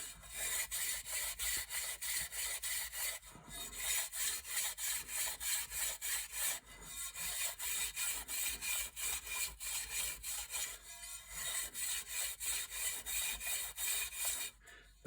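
3M abrasive cloth is rubbed hard around the aluminum front of a Cerwin Vega speaker during a recone, making a fast, steady back-and-forth scrubbing rasp that continues for several seconds with brief pauses, close and moderately loud.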